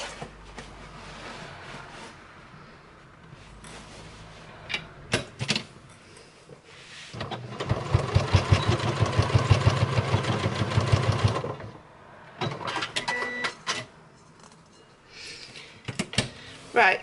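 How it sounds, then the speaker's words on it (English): A sewing machine stitches the tie onto a fabric machine cover in a loud steady burst of several seconds, framed by quieter handling clicks and rustling before and after. "Now I'm just going to sew that into place."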